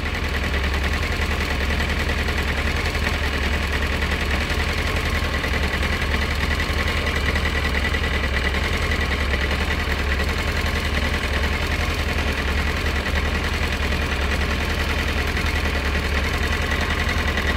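A Yamaha FZS 600 Fazer motorcycle engine idles steadily throughout while its carburetors are synchronized, a loud, close, continuous low rumble with a fast, even pulsing beat and no speech.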